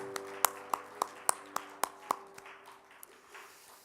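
About eight sharp, evenly spaced claps ring out during a Friday worship service in a church congregation, with a sustained organ-like tone underneath, then taper into quieter scattered taps.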